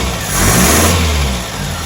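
A Mk1 Ford Fiesta's 1.1L engine, just fitted with electronic ignition, catches and runs a little rough, rising in a steady revving drone that swells and then settles, loud and close with no talk over it.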